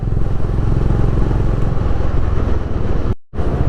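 A Honda CB350 motorcycle rides along a village road, its engine giving a loud, steady low thump close by, broken by a brief dropout near the end.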